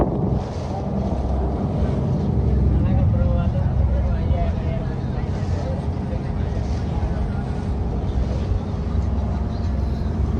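Passenger boat crossing to Nagadeepa, with a constant loud engine drone mixed with wind buffeting the microphone and distant voices of passengers throughout.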